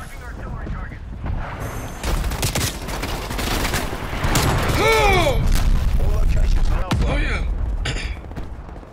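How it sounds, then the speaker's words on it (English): An artillery strike in Call of Duty Cold War lands as a barrage of rumbling booms and rapid gunfire cracks, building to a loud sustained roar with scattered game sounds. "Marking artillery target."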